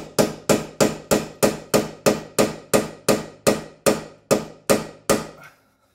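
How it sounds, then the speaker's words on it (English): Steady hammer blows on a chisel driven against a corroded, seized part on a Volkswagen R32 being prepped, about a dozen sharp metallic strikes at an even rhythm, loud and close, with no talk, ending in silence. "I say still try the chisel."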